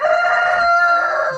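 A rooster at a small backyard farm crows once, loud and close, a single sustained cock-a-doodle-doo lasting just over a second with no voices over it.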